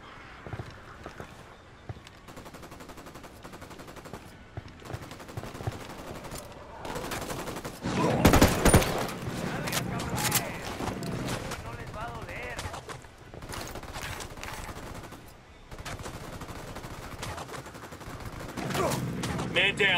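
Gunfire in the Ghost Recon Wildlands video game, scattered shots and bursts in a busy mix of game effects with a louder cluster midway, under intermittent voice chat.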